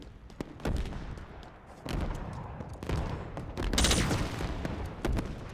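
Rapid bursts of automatic gunfire and explosive booms from an assault rifle and rocket launcher in the video game Halo Infinite, a loud continuous fusillade with repeated sharp shots and a heavier blast near the end.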